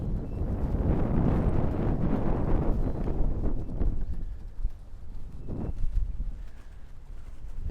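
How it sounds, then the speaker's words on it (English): Steady wind gusting across an outdoor disc golf course at Belton, a continuous broadband rush with brief flurries of buffeting on the microphone and no talk. "Not a great wind for it, but let's try it."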